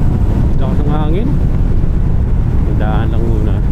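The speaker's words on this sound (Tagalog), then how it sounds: "Lakas ng hangin." Strong wind buffets the microphone during a motorcycle ride on a wet road toward Silang town proper, a steady loud roar throughout, with brief talking over it.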